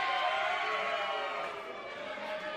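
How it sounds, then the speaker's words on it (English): Crowd at a live wrestling event cheering for a wrestler, a steady, dense wash of voices and cheers holding at a fairly constant level throughout, slightly easing toward the end. "Getting cheers from our crowd"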